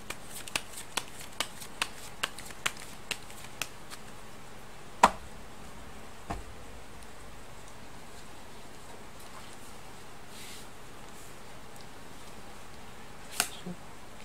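Tarot cards are shuffled and laid out in a quick series of sharp snaps and riffles, then sparser single flicks and soft card slides at close range, with no talk.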